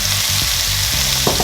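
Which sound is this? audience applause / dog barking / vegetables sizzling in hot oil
vegetables sizzling in hot oil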